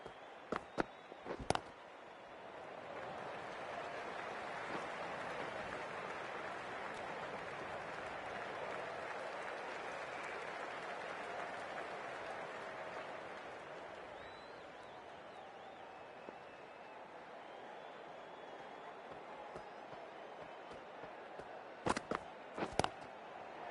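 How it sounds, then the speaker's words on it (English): A cricket stadium crowd at an SA20 match applauds a batsman walking in at number 11, a distant, sustained wash of clapping that swells and then fades, with a few sharp knocks at the start and end. "Please give him a round of applause."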